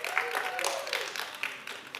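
An audience at a Jewish education conference claps, a scattered patter of hands with uneven bursts, moderately distant and sustained over two seconds.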